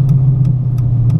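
A procharged Dodge Challenger R/T with a 5.7 Hemi rumbles at a steady, loud idle, its deep drone close and constant, with faint periodic ticking sounds every few tenths of a second.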